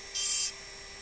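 A rotary engraving burr grinds into a crystal glass tankard in one steady high-pitched whine lasting about a third of a second, close and fairly loud, then cuts off to quiet.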